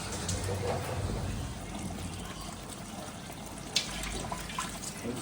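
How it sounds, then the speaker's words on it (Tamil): Water poured into masala cooking in a pan in a bachelor-room kitchen for coconut rice and king fish gravy, a steady splashing trickle throughout with one sharp clink near the end, fairly close. "ஊற்றுங்க தண்ணியா."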